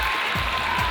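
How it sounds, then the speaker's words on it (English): An audience at a science show gives a short, dense round of applause, with many hands clapping at once in a continuous, even wash of sound. "I think that's cool enough to deserve a little hand clapping out there"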